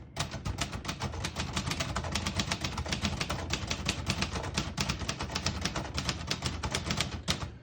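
Rapid, even keystrokes clack on a 1955 Royal Quiet De Luxe portable manual typewriter, a steady run of sharp taps at close range with no speech.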